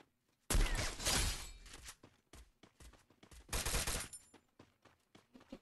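Gunfire in the battle-royale mobile game Free Fire, two loud sustained automatic bursts separated by scattered single shots, sharp and close with quiet gaps between.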